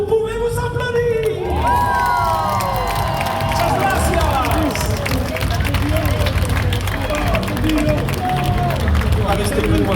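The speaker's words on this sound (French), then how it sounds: "À titre exceptionnel, vous pouvez vous applaudir." A large festival crowd at a Japan-themed TV theme-song party in Tours cheers and applauds loudly and continuously, with shouts and voices mixed into the roar.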